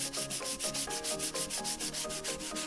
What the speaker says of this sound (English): I'm gonna go ahead and try and sand this down.